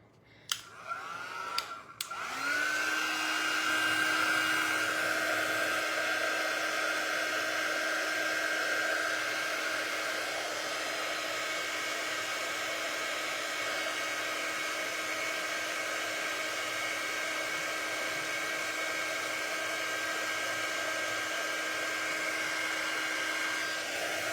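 A hair dryer switches on after a couple of clicks and blows steadily at close range onto a fabric tea towel, its whine holding level for over twenty seconds with no talk.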